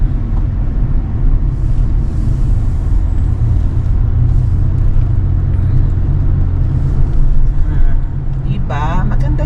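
A car rolls past on a quiet suburban street, a steady low rumble of engine and tyres under a person talking nearby, with a brief higher whine near the end.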